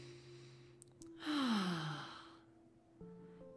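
A deep breath drawn in during a gentle guided relaxation meditation for children, a soft airy inhale rising and fading over about a second amid quiet tonal background music, with no speech.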